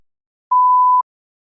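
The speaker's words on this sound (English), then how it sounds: "You may begin to prepare your response after the beep." A single steady electronic beep in a speaking test, clean and mid-pitched, lasting about half a second in otherwise silent surroundings.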